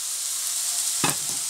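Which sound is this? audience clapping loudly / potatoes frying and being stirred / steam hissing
potatoes frying and being stirred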